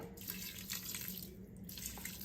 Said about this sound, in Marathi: मी दीड भांडं पाणी गरम करून घेतलेलं आहे ते आपल्याला थोडंसं ह्याच्यावर घालायचं आहे